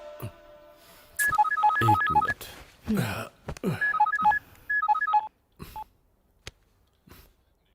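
Telephone keypad tones and ringing in short repeated bursts of electronic beeps, loud and close, with people speaking between the bursts.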